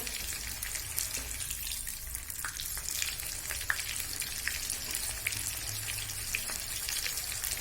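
A whole cauliflower fries golden in a kadhai over medium flame, a quiet steady sizzle with scattered small pops and crackles and no voices.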